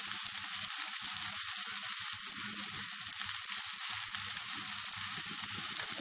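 Masala with onion, chilli sauce and soy sauce fries and is stirred in a pan for a Thalassery kumbalappam filling, a continuous bright sizzle with soft scraping stirs underneath, no speech.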